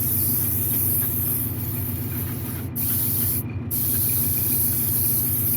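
Blue base coat paint sprayed from an airbrush or spray can onto a Wolverine figure's pants, gloves and boots, a steady continuous hiss running for several seconds with two very brief pauses.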